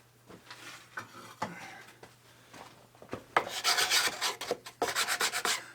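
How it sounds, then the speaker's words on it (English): Sandpaper rubbed by hand over a new wooden handle for a McNaughton Center Saver coring rig, scattered light scrapes at first, then dense, loud back-and-forth rasping strokes in quick bursts near the end, with no talking. "You just grab a piece of sandpaper."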